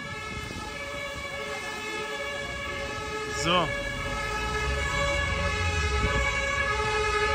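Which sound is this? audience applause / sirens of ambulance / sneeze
sirens of ambulance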